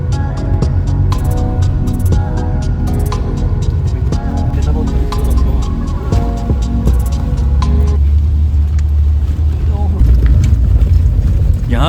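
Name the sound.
off-road vehicle climbing a rough mountain track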